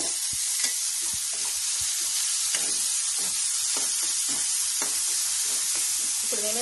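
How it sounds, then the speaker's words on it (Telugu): Tomato puree fries in a pan with a constant close sizzle and hiss, punctuated by regular light taps and scrapes from a stirring spoon throughout. "ఇప్పుడు వేద్దాం దీంట్లో టమాటో ప్యూరీ"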